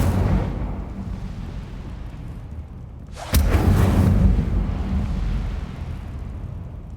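The Incendio fire spell is cast in Hogwarts Legacy, heard as a sudden loud fiery burst midway through over a rumbling game soundscape, followed by a sustained roaring whoosh.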